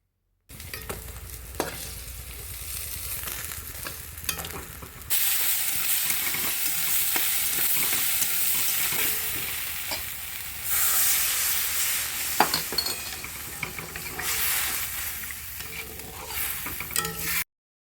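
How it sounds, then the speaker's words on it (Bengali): Fish frying in a pan for a home dinner, a continuous hissing sizzle that swells louder midway and again later, with occasional clinks of a utensil stirring, close by and without talk. "তারপরে দেখো মাছগুলো ভাজছি।"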